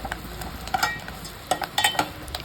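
Coriander leaves fry in a pan with a soft sizzle under a series of light, irregular clinks and scrapes from stirring, close and alone without talk.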